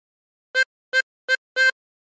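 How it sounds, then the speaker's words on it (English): Four short blown notes on hole seven of a harmonica, evenly spaced and bright, each a brief clean tone with rich overtones, played alone with no talking. "Blow into seven 4 times."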